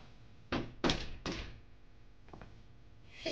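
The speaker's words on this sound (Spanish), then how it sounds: "Abre la puerta." A door is opened with a few hollow thunks and clunks of the latch and panel, close and moderately loud, separated by quiet gaps with no talking.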